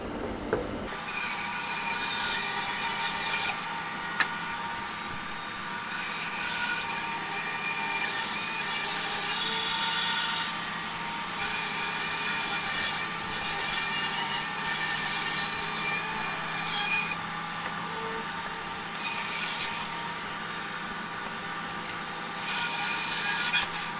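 A saw blade, likely a bandsaw, rips a green wood board being cut into rough bowl blanks, with a steady motor hum and bursts of louder cutting noise as the blade passes through the wet timber.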